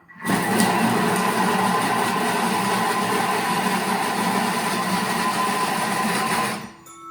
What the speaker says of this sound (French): Et on va mixer 6 secondes vitesse 5.